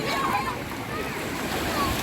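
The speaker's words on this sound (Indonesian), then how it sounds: "Kan lumayan kan ombaknya kan, lumayan kencang." Ocean waves at Ulee Lheue beach in Banda Aceh, a gently sloping shore, giving a continuous loud rushing wash with wind noise on the microphone.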